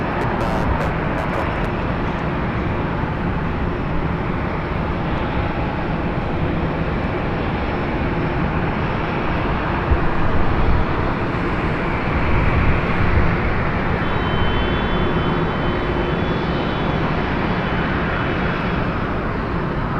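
A jet airliner taxis at Los Angeles LAX airport, a loud continuous engine roar with steady rumble and a distant whine, with no speech.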